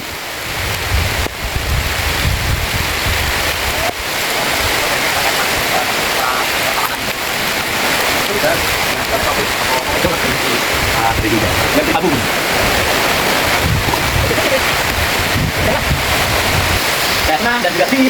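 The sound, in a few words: heavy rain pouring down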